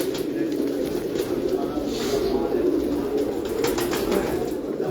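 Soft, plump rooftop pigeons coo in a steady overlapping chorus at close range, with a voice talking intermittently above the birds.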